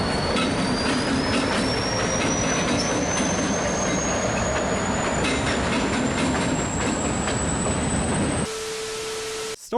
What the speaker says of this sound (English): Following the train was a Beltway Chicago slug set.